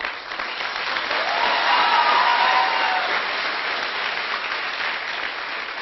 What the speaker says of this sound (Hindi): कई लोग जलन वाली ताली बजा रहे हैं।